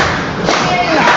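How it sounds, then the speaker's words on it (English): A wrestling crowd at a PWU tag match, Controlled Kaos against Jordan Oliver and Leedz Lewis, keeps up a steady, loud roar of cheering through the whole stretch, with a voice speaking over it. "This crowd is absolutely electric for this match."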